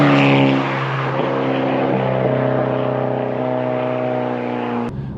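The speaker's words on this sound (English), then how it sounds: "Exhaust rumble, induction and exhaust, you've got best of both worlds here" Volkswagen Golf GTI Edition30 engine and exhaust under hard acceleration, with a loud steady droning rumble and induction tone held close throughout, then a sharp click-like transient near the end.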